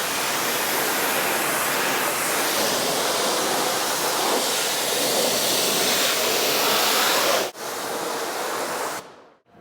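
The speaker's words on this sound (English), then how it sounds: "So now time to rinse off the wheels." Pressure-washer spray rinsing the wheels of a matte car, a loud, dense, close hiss of water that runs without a break and cuts out briefly near the end.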